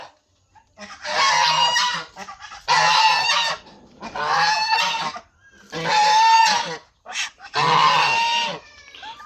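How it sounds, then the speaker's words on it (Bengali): Two domestic ducks give a run of loud, close honking calls in five rasping bursts separated by brief pauses. "এই যে 2টা হাঁস, এই 2টা হাঁস যে কিনলাম আমরা"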